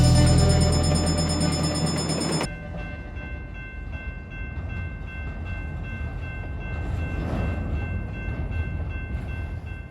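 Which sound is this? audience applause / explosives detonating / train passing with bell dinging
train passing with bell dinging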